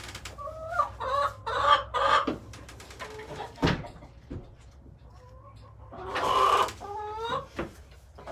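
Backyard chickens clucking in short bursts at close range, with a few louder calls and a sharp knock partway through, over a low steady background hum.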